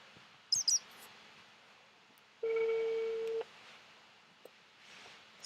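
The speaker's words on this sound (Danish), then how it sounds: "Den ringer faktisk." A telephone in Minecraft gives a single steady electronic tone lasting about a second, clear over faint room noise, with a few brief high chirps and small clicks before and after it.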